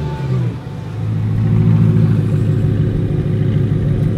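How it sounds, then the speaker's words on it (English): A wide-body BMW M3 engine revs loud and close, a steady deep mechanical roar that dips briefly near the start and then holds strong through the rest. "I hear a monster car."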